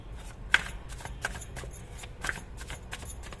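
Tarot cards being handled and laid out on a table, with soft papery shuffling and a few sharper card snaps, fairly quiet and close with no talking.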